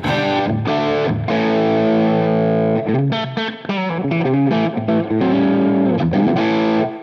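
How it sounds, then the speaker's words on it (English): Distorted electric guitar playing sustained chords and quick riffs through a new tube amplifier, with a thick, saturated tone and no talking. "you're going to hear the actual product, the amp."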